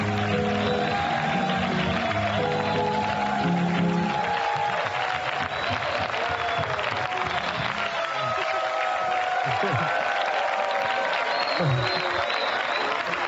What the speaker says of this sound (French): Applaudissements encore pour la belle image pour cette célébration aujourd'hui